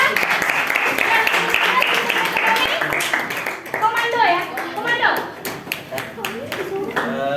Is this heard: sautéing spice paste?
no